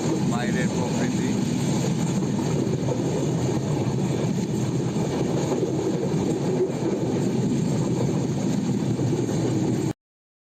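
Passenger train running at night over the Jamuna bridge in Bangladesh, a constant loud rumble and rattle of the carriage heard from inside, steady and unbroken.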